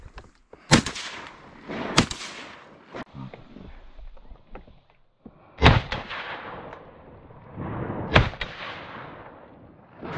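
Shotgun blasts ring out during a black duck hunt on public land in Nova Scotia, several loud reports spaced a second or more apart over an open outdoor background.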